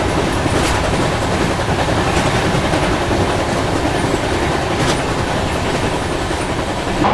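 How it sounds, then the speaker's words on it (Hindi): Passenger train running steadily at around 110–115 km/h on the Jaipur to Agra Cantt route, a loud continuous rumble with rhythmic clickety-clack from the wheels, heard close from on board. "अच्छी खासी स्पीड में हमारी ट्रेन चल रही है"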